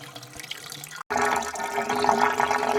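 Spring water pouring steadily into a five-gallon bucket outdoors, a close, continuous splashing rush that briefly cuts out and then resumes louder and fuller, with no talking.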